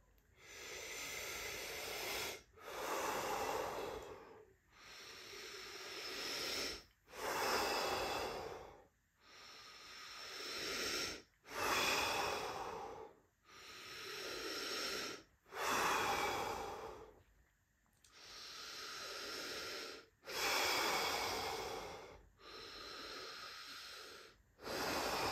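Deep breathing exercise of rounds of full inhales held between breaths, heard as about ten long, close, hissing breaths, each ending in a silent pause, with no talking.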